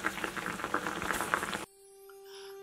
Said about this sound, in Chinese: 放入滚水中煮至大约5分钟后会浮起来，再煮5分钟